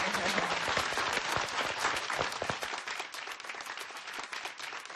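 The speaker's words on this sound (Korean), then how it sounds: "기운 나시게 박수." A Korean TV studio audience breaks into brisk applause, with many hands clapping quickly and evenly, loud at first and then gradually thinning and fading.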